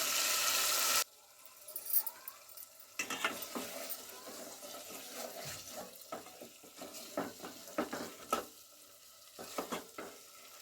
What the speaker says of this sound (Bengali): কষাতে কষাতে চিকেন থেকে পুরো তেল ছেড়ে গেছে।